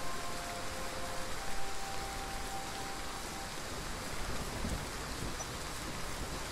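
Rain in the survival crafting game The Front, a dense, even hiss of falling water that fills the whole stretch without pause, steady and moderately loud, with no voices over it.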